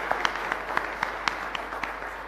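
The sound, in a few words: congregation applause at Mass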